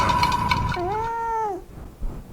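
A single clear cat meow, a drawn-out rising and falling cry close to the microphone, following a stretch of background talk and noise.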